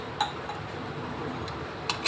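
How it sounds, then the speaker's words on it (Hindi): A spoon clinks against a cooking pot while mixing raw mango murabba with sugar and water, a few sharp metallic taps spaced apart over quiet background, no talk. "और अब हम इसे चम्मच की मदद से मिक्स करेंगे।"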